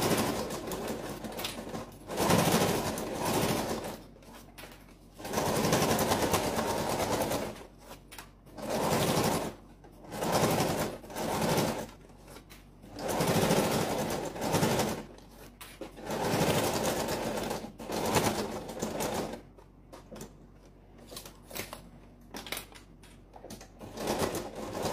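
A sewing machine stitches a folding fabric pouch in repeated close, loud bursts of rapid mechanical whirring, separated by short pauses, with no talking.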